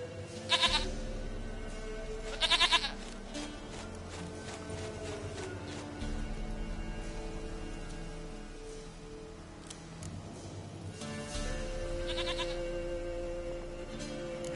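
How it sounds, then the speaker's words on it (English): Goats bleat in The Witcher game, two loud bleats near the start and another burst later, over steady game ambience and music. "Goat of mine! Dearest, sweetest goat!"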